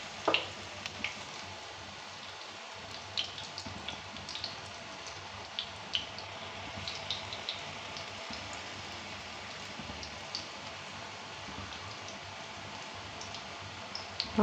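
Paneer chops frying in oil over medium heat: a steady, low, hissing crackle with scattered small pops, no voices, continuing evenly throughout.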